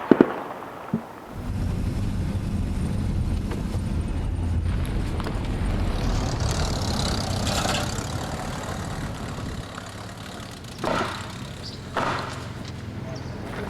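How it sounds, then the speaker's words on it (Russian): Artillery fire booms at a frontline position in Donetsk during a failed ceasefire, heard as distant, muffled thuds over a low engine-like rumble, with a couple of sharper reports standing out. "И артиллерия, вот, начинается стрельба."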